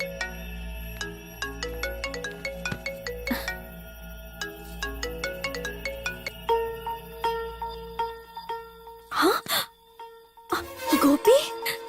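A mobile phone rings with a repeating electronic ringtone melody for several seconds, followed by brief bursts of talking near the end.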